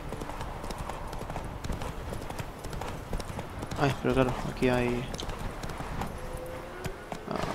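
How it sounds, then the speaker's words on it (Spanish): A horse galloping in The Witcher 3 video game, its hooves beating a steady, quick clip-clop throughout while someone talks in Spanish over it. "Ya, corre, caballo. Hay que correr."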